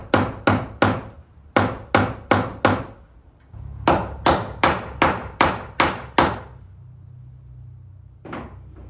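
Hammer blows ring out while a house exterior is being framed and sheathed, coming in quick bursts of three to six sharp strikes with short pauses between them, close and loud, ending with one softer knock.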